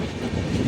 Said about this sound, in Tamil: ட்ரெயின் ஏறிட்டோம்.